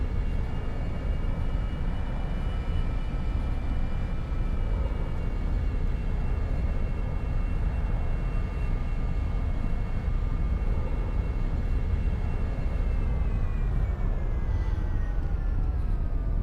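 An airliner backtracks along runway 16 left in a flight simulator game, its engines a steady, loud, low rumble with sustained whining tones that slowly drop in pitch toward the end, no talk.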